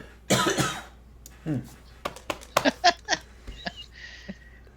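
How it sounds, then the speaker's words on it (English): A man coughs several times, loud and close at the start, followed by softer short coughs and throat-clearing sounds mixed with chuckles and brief murmured voice. "I'm gonna cough again."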